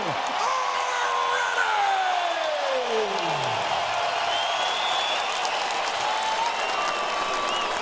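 A boxing arena crowd in Las Vegas for a Golovkin versus Canelo Alvarez fight roars with sustained cheering, applause and whoops, loud and dense, with a voice over a loudspeaker sliding down in pitch at the start.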